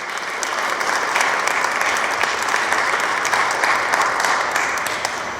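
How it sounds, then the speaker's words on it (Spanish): A crowd at a museum event in Mexico gives sustained, dense applause, steady and fairly loud from start to finish with no break. "Vamos a darles un aplauso"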